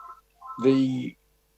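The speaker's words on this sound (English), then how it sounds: "sorry, my phone's ringing" A phone rings during a community board meeting: one short electronic tone burst, fairly clear, set between brief murmurs of a voice.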